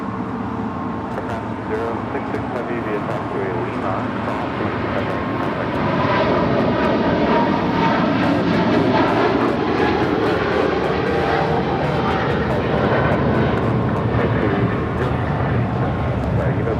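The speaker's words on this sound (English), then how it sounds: "That is Eva Air Flight 5 Heavy taking off to Taipei on a 777-300 ER." An EVA Air Boeing 777-300ER departs Los Angeles International for Taipei, its engines a broad, loud roar that swells partway through, with a voice talking over it.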